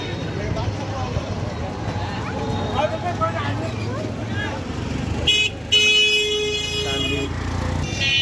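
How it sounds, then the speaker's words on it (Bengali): Busy road traffic by a riverside bridge, with cars rumbling past steadily and short honking horns near the end, under someone talking. "অনেক গাড়ি যাইতেছে, অনেক শব্দ।"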